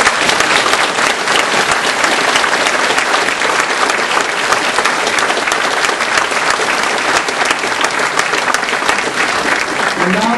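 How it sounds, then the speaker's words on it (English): An audience at an evening nuclear debate in Peace River breaks into sustained applause for organizers and presenters, dense steady clapping throughout, loud and close. "please join me in a round of applause directed both at organizers and our presenters."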